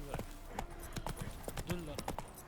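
Hooves of Geralt's horse Roach trotting in the video game The Witcher 3: Wild Hunt, a steady close clip-clop rhythm with someone talking over it.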